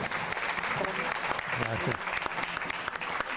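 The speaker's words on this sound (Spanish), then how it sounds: "Vamos a darle un aplauso con todo cariño." Audience applause for students at an education event, a steady wash of clapping that carries through the whole moment, with a voice speaking thanks over it.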